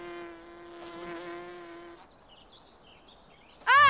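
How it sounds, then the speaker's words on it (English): A wasp buzzing close by outdoors near low flowers, a steady droning hum lasting about two seconds before fading into quiet background, then a sudden loud burst at the end. "It's just a wasp."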